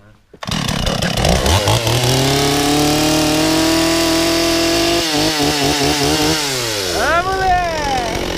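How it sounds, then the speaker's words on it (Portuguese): A chainsaw engine roars loudly and steadily, its pitch climbing and then dropping as the throttle is worked, with a brief voice at the start. "Dá uma acelerada nesse motosserra aí pra nós."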